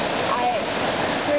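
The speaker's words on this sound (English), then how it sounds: "we're right on a cliff overlooking the river" The Little North Fork of the Santiam River rushes steadily below a cliff at Three Pools, a constant loud roar of flowing water with no break.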